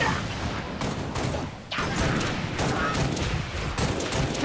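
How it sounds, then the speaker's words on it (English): Enemy gunfire in the video game Halo Reach, dense overlapping bursts of shots crackling continuously, with a brief dip before rapid fire resumes, loud and close. "Taking enemy fire!"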